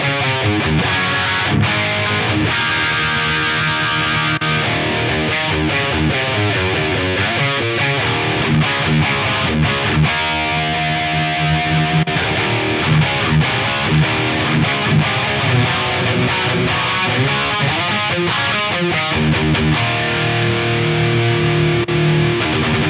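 An electric guitar plays at high gain through a Gain Enhancer pedal, giving a continuous distorted, saturated tone with chords and riffs at steady, loud level throughout, with no talking.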